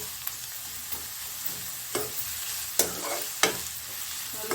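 Onions, green chilies, coriander and curry leaves sauté in a pan for shark puttu, giving a soft, even sizzle with regular spatula scrapes and taps every second or so, nearby and without speech.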